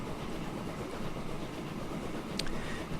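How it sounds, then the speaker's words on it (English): Train in a transport-management game rolling along the rails, a steady low rumble and wheel clatter with a faint hiss, heard alone. "Now, I have my train on the way back."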